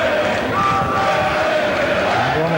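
Rugby league supporters at a Lancashire Lynx versus Leigh match roar and chant as a steady crowd swell, with a commentator's voice running on top throughout.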